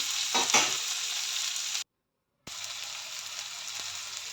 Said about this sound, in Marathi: ही मोड आलेली मटकी घातली आणि या सर्व भाज्या हे सगळं मिश्रण एक प्रकारे शिजवून घ्यायचं